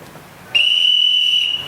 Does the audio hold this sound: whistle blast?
yes